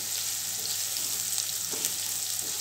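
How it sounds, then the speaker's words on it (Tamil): Onions sautéing in a pan for a Tamil eggplant fry, a brief, even hiss of sizzling with faint stirring, close and without talk. "இப்போ இது நல்லா வெங்காயம் நல்லா கொஞ்சம் வதங்கணும்,"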